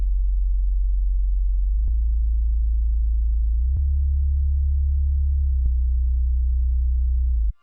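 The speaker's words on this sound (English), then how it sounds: "So here is the sub bass, it sound like this." A deep, steady sub-bass tone from a software synthesizer in FL Studio holds continuously for several seconds, with faint clicks at regular intervals, then cuts off abruptly.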